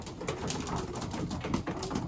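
Racing pigeons in a loft coo steadily with overlapping low throaty calls, a dense busy bed of bird sound close by with no talking.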